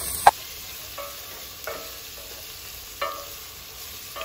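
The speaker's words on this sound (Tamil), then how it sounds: "இஞ்சி பூண்டோட பச்சை வாசனை போகணுன்றதுக்காக தான் கொஞ்சம் முன்னாடி போடுறோம்" Quiet sizzling of ginger and garlic sautéing in a pan, with a few soft stirring scrapes and clinks at intervals.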